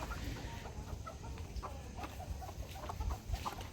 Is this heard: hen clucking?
yes